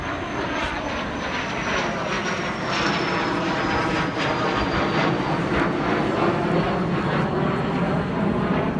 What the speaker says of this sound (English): This is an F-100 Super Sabre by North American. It's a 1950s jet.